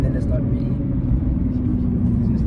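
A Nissan R35 GTR engine pulls under load, giving a steady deep rumble with road noise over the short stretch.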